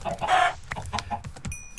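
Chicken clucking in Minecraft: a few short clucks up close, followed by faint clicks of game activity.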